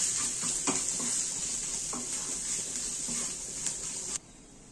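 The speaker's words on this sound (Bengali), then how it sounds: "এবার আমি ভালো করে মশলাটা কষে নেব।" Ground turmeric, chili powder and cumin powder sautéing in a pan for khichuri, a steady bright sizzle with a few scrapes of stirring, then the frying cuts off abruptly near the end.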